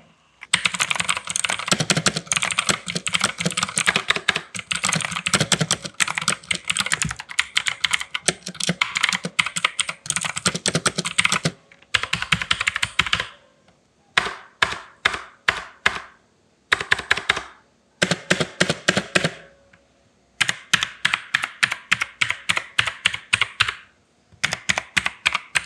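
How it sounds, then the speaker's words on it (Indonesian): Fast typing on an Armaggeddon MKA budget mechanical keyboard with clicky blue switches, loud and close: dense bursts of sharp clacks, then shorter separated flurries with brief pauses between them. "Kalau menurut saya sih blue switch-nya ini clicking-nya sangat berisik banget ya."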